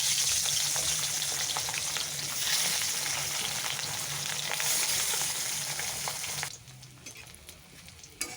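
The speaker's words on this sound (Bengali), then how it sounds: "এখন মাছ ভেজে নেব প্রথমে।" Fish frying in hot oil sizzles loudly and densely, with stirring under it, then the sound drops off sharply toward the end, leaving only faint crackles.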